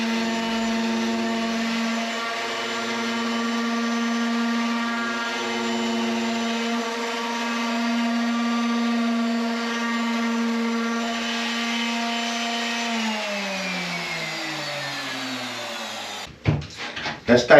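A power sander runs on wooden boat woodwork aboard an Ocean Pirate 43, a loud steady motor whine with a droning pitch that winds down near the end before a few brief clattering knocks.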